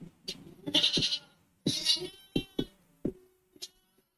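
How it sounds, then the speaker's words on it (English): A few short bleats ring out in quick succession, nasal and wavering, followed by scattered clicks and shuffles nearby. "Huge sheep."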